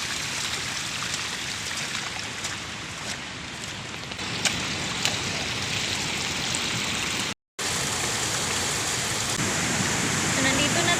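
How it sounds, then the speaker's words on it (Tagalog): Heavy typhoon rain pours down over a flooded front yard, a loud, dense, continuous roar of rainfall and rushing water with sharper splashes, briefly cutting out to silence near the end. "Ang lakas talaga ng ulan."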